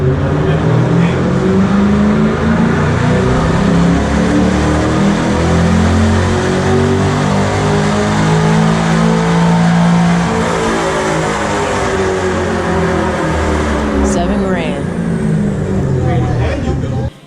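A Camaro with an aftermarket exhaust and cold air intake revs and drones loudly and continuously, pitch rising and falling in sweeping bands, with a sharp high whine near the end.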